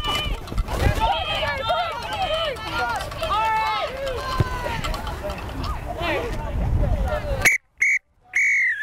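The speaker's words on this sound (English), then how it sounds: "There's that thing called a whistle." At a 2014 women's football game between the Amazons and New York, players shout and run across the field, then a referee's whistle blows several sharp, loud blasts near the end.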